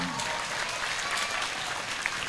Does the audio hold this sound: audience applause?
yes